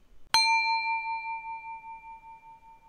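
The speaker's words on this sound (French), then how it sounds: "première écoute, un bol chantant frappé" A Tibetan singing bowl is struck once, giving a bright metallic ding that rings on as a clear, steady tone, slowly decaying over nearly three seconds in a quiet room.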